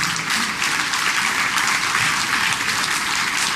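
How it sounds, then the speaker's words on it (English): A crowd applauds Kevin Bryant during a speech, dense and loud clapping that holds steady the whole time without any talk over it. "Let's give him a round of applause, Kevin Bryant."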